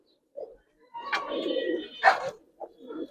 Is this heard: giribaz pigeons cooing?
yes